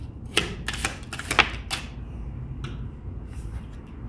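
Tarot cards are shuffled and drawn by hand: a few crisp snaps and flicks close up in the first half, then softer papery rustles trailing off, with no voices.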